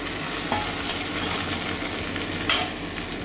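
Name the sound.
pointed gourd peels frying in a hot pan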